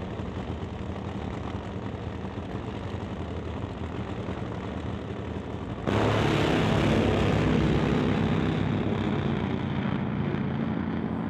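Top Fuel Harley drag racing motorcycles making a side-by-side pass at the Doorwarz 11 drag strip event: a steady, distant mechanical roar that abruptly becomes much louder and harsher about halfway through, then holds at that level.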